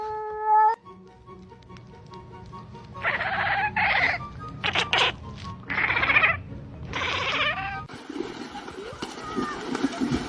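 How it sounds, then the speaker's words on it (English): Cats fighting early in the morning, a run of drawn-out yowling meows in several loud bursts, followed by an outdoor rumble and a person's voice. "these cats are beefing at 7 a.m."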